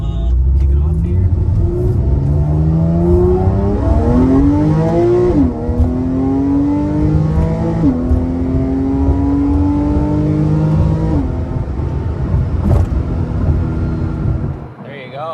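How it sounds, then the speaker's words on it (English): Porsche 997.2 911 Carrera 4S accelerating hard with manual gear changes, engine note rising through several gears with distinct shifts, loud and close from inside the car, with a voice talking over it. "So that's manually shifting the Carrera 4S."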